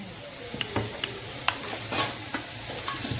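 Vegetables for Hakka noodles sautéing in oil, a soft steady sizzle broken by repeated sharp scrapes and clicks of a spoon stirring against the pan.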